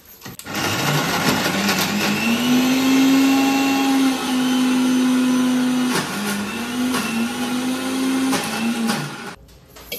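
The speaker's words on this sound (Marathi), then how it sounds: "नंतर हे सगळं पाणीमध्ये मिक्सर मधून काढायचं ना एकदा परत" A kitchen mixer grinder whirs loudly through crab masala and water for a Kolhapuri crab curry, with a steady motor hum, slight pitch dips, and an abrupt start and stop.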